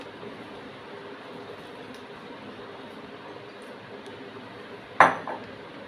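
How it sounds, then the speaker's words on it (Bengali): Yard-long beans dropped into a wok of water land in one sudden clattering splash and metallic clink near the end, after quiet room tone. "বরবটিগুলো কড়াইতে ছেড়ে দিচ্ছি"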